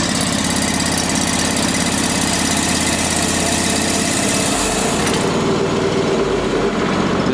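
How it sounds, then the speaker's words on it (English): A Rhino 500 petrol sawmill engine runs loud and close, idling with a steady chugging pulse before the throttle opens and the pitch and roar rise to drive the saw blade, no talk. "to initiate the saw blade, the operator increases the throttle."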